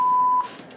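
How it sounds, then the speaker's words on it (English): A steady electronic test-tone beep from an Arduino servo setup holds for about half a second, then cuts off, leaving faint room noise. "There's our test tone."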